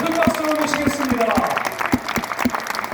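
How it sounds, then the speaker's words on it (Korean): Applause from a church congregation welcoming dancers on stage, a dense steady patter of clapping with sharp rhythmic accents throughout, and a sustained musical tone faintly running underneath. "우리 큰 박수로 모시겠습니다"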